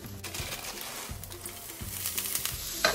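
Steak fried rice with green peas stir-fried in a wok over high heat: a constant sizzle broken by repeated low scraping thumps of the spatula against the wok, close and fairly quiet.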